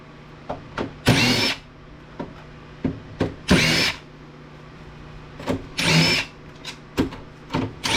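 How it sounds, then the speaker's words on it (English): A power driver fitted with an 11mm socket spinning off small nuts while scrapping an APC unit, short repeated whirring bursts separated by pauses and light handling clicks, close and clear, no talk. "This is just an 11mm socket, which is the size of the little nuts on these."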